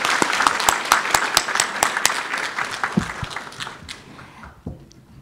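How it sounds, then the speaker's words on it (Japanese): Audience applause at a regional revitalization award final judging and ceremony, thanking three commentators: dense, sharp clapping with distinct individual claps, fading out toward the end. "的確にごコメントいただいた3人の方にどうぞ拍手をお願いいたします"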